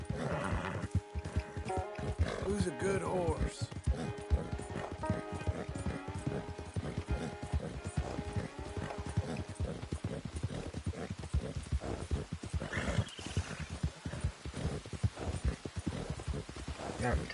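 Rapid hoofbeats of a galloping horse in Red Dead Redemption 2 drum steadily and close by, layered under game music and ambient tones, with a snort or whinny partway through.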